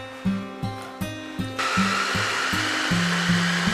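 A kitchen juicer whirs in short pulsed bursts on cut orange pieces, then runs continuously with a louder, steady grinding hum; no talking.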